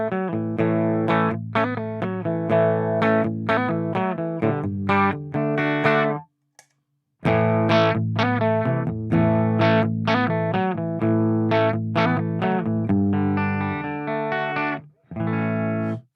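An electric guitar plays chords and riffs through a distorted amp, loud and crunchy, with a brief pause midway before the playing resumes.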